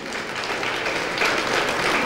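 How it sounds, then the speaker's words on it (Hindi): Audience applause after a drama performance honouring its director, a dense, steady wash of many hands clapping throughout with no talk over it. "आपकी तालियां उनकी सराहना देंगी"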